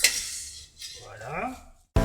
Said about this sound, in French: avec ta fourchette tu écrases le beurre comme ça